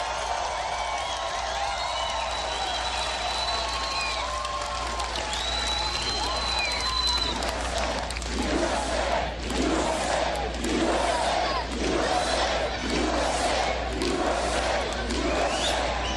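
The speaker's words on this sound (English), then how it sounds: "Every place we go, we're having crowds like this." A large crowd at a Donald Trump rally in Colorado Springs, rising from a murmur with whistles into loud, sustained cheering, shouting and clapping that pulses in waves through the second half.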